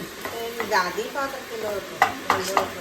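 Oil hisses and sizzles as fish fries in a pan beneath a talking voice, with a few sharp spatters standing out near the end.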